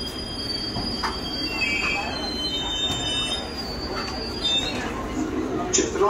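A London Underground train rolls through Earl's Court station at rush hour with high, piercing wheel squeals rising and fading over a steady rumble, with faint voices in the background.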